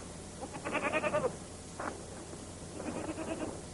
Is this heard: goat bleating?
yes